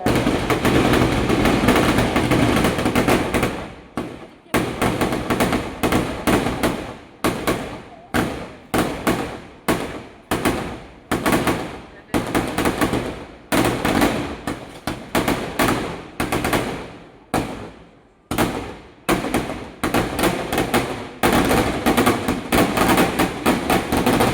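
Loud fireworks burst in rapid, irregular volleys at the Kodungallur Thalappoli festival in Kerala, dense crackling bangs and booms overlapping for a long stretch, with voices faintly mixed in.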